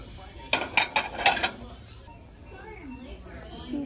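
Ceramic plates clink together on a store shelf at a dollar store, four sharp chinks in quick succession, followed by quiet with someone talking softly in the background.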